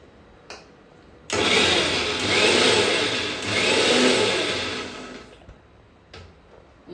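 A mixer grinder whirs loudly as it blends mango lassi, running steadily for about four seconds before cutting off, with a few small knocks before and after.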